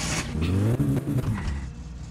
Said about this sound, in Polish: Patrzcie, za słaby silnik jest.